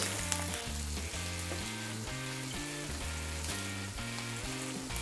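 Oil heats in a frying pan for a frittata, with a continuous bright hiss and crackle running steadily beneath background music.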